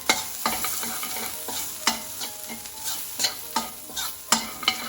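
Spices with turmeric, red chili powder, cumin and salt fry for aloo gobi, a soft sizzle under frequent sharp scrapes and taps of a spoon stirring the pan.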